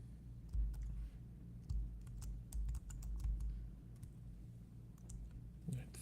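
Rapid keystrokes on a computer keyboard while entering a style value in InDesign, a quick irregular run of close, crisp clicks over faint room hum.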